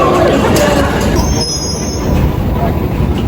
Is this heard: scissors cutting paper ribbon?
no